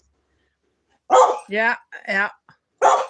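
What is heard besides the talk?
pet dog barking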